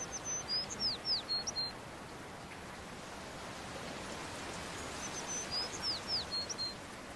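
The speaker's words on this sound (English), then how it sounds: "You may have liked the sound of a bird singing in the garden." A bird sings in a garden in two short bursts of bright chirping and trilling phrases, one at the start and one near the end, with a quiet steady hiss between them.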